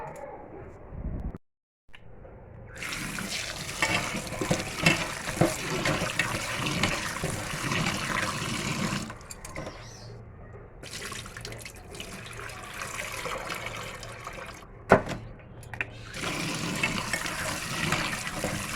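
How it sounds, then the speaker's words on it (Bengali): Cut potatoes are washed in water in a home kitchen, with running, splashing water and sloshing that continues through most of the stretch, broken by brief pauses and a sharp knock. "এখন আমি আলুটা কেটে নিয়ে জলের মধ্যে ধুতে যাব"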